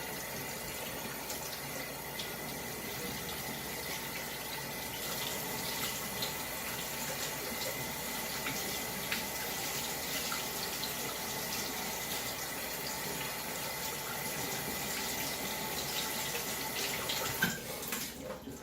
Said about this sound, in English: Just rinse it with cold water.